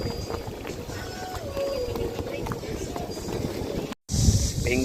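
Speedboats on the sea by Peng Chau Island in Hong Kong, a steady broad engine and water rush with wind noise throughout, briefly cutting out before louder close wave and hull sounds resume.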